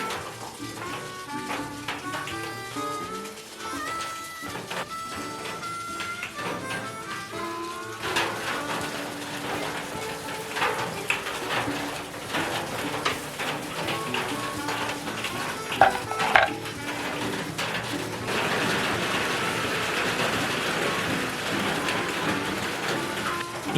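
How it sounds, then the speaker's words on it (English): Rain falls steadily outdoors, a dense, even patter of drops on surfaces that continues throughout with occasional sharper taps, no talking. "It has kind of started raining again"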